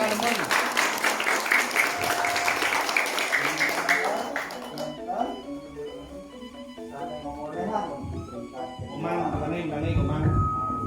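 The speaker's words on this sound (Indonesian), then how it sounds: "Tepuk tangan dulu." Crowd applause at a Balinese language month event, dense clapping for the first few seconds that fades out as amplified speech and background music take over.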